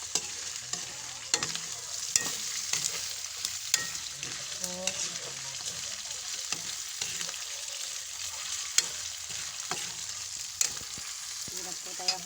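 Meat for pancit stir-fries in a pan with a constant soft sizzle, punctuated by regular scraping and clanking strokes of the stirring utensil.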